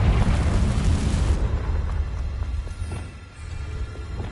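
A Confringo fire spell explodes in Hogwarts Legacy, a loud close booming blast that roars broadly, then drops into a rumbling decay and low crackle.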